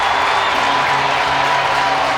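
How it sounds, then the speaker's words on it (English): Sheffield Steelers ice hockey crowd at the arena celebrating a goal, a loud, dense roar of cheering and applause filling the whole moment. "The Steelers crowd can celebrate again a couple of minutes later"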